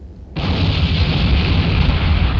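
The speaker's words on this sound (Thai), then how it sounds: "นิวเคลียร์ระเบิด" A sudden, massive nuclear explosion in the video game Ravenfield bursts in and then holds as a loud, sustained roar of rumbling blast noise, filling the whole clip.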